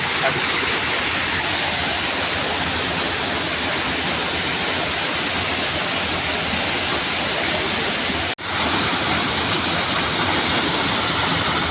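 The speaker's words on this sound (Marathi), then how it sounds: "सुंदर असा निसर्गाचा धबधबा" A natural waterfall swollen by rain pours with a loud, unbroken roar of rushing water close at hand. The sound cuts out for an instant partway through.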